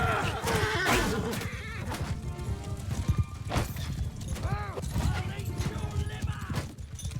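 Horses of mounted raiders gallop in the Mount and Blade Bannerlord video game: a steady, busy clatter of hooves with occasional neighs runs throughout, loud and dense, with talk over it.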